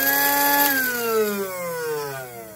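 A KitchenAid A9 coffee bean grinder (KCG200TG1) whirs loudly and steadily, its motor pitch sliding gradually downward as it spins, heard alone without voices.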